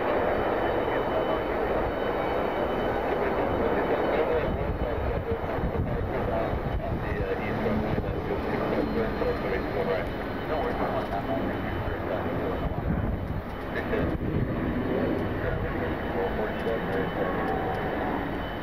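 An airliner arriving at Detroit Metro airport from Charlotte, North Carolina, its engines a steady, broad roar held at a constant level throughout, with wind buffeting the microphone.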